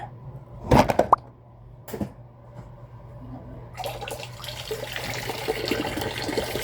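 Water drains out of an appliance under repair, a self-draining unit emptying onto a workshop floor: two sharp splashy bursts near the start, then a steady, moderately loud rushing trickle that continues to the end.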